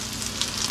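Squash fritters fry in a pan of hot oil, a dense, steady sizzle heard up close, crackling evenly throughout the short moment.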